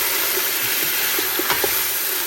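Thai red curry chicken being stirred in a hot pan, a steady frying sizzle with a few soft scraping strokes of the spoon close by, no voices.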